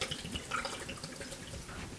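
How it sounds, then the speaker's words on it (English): Gin poured into a pot of dried apples and pears, a soft liquid trickle and splash heard up close at steady level for about two seconds. "We will pour in the gin"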